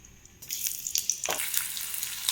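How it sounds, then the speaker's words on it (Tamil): Chopped onions drop into hot oil in a pan for a restaurant-style mushroom gravy, setting off a sudden loud hiss that settles into a steady crackling sizzle with scattered pops. "எண்ணெய் நல்லா காஞ்சதுக்கப்புறமா நம்ம எடுத்து வச்சுருக்க வெங்காயம் ஆட் பண்ணிக்கலாம்"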